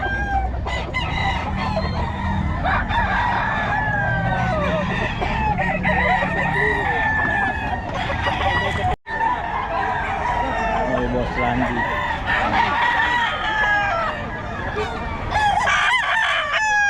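Several roosters crow over and over amid steady clucking from a crowd of chickens for sale, with someone talking in Filipino now and then underneath.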